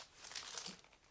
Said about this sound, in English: It's got that crinkly cellophane